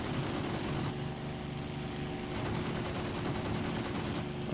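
Aircraft guns fire in the combat flight game IL-2 1946 over a continuous engine drone, bursts of rapid rattling shots rising above the steady roar throughout.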